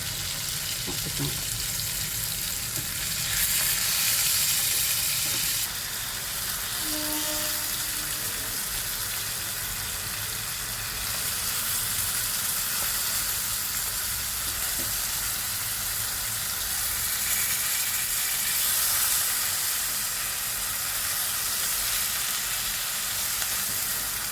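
Sole fish frying in hot oil gives a steady, continuous sizzling hiss that holds at an even level throughout, with faint kitchen clatter and a brief low voice underneath.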